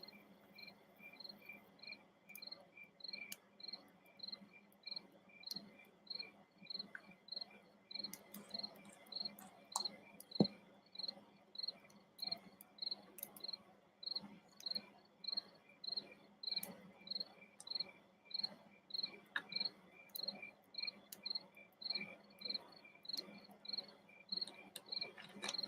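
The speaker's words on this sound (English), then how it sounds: "are you outside? I hear crickets." Steady, rhythmic cricket chirps repeating in regular pulses throughout, fairly faint against a quiet background hum, with no talking.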